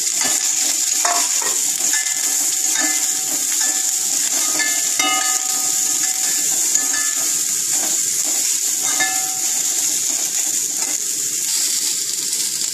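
Snake gourd sizzles steadily in a hot pan with mustard seeds, urad dal, dried red chilli and curry leaves, with soft stirring scrapes and small crackles throughout, close and continuous, no talking.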